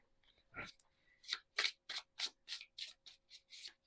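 Crisp riffling and snapping of tarot cards being shuffled, about ten quick bursts in a steady rhythm, close up, with no talking.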